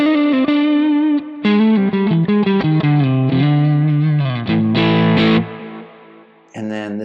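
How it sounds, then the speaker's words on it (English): An electric guitar played through a low-gain Two-Rock Bloom drive capture on a Nano Cortex gives a warm, lightly driven tone, with close, loud single notes and short phrases that pause briefly before a final sustained note. "I think this is a 2-rock Bloom drive. A nice kind of low gain."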